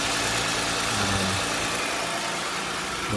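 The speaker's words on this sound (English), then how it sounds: "Go ahead and start your car up now." A car engine idles steadily just after being started during power steering bleeding, a loud, even mechanical hum with a slight shift in tone partway through and no voices.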